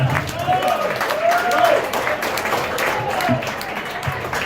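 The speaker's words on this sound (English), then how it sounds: "Round of applause for Uncle O" A comedy club audience applauds for Uncle O with moderate, steady clapping and a few whoops, while a voice talks over part of it.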